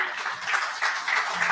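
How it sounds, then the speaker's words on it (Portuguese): Faint applause from a church congregation, a soft continuous patter of many hands heard at a distance, with no voices over it. "É um aplauso a Jesus."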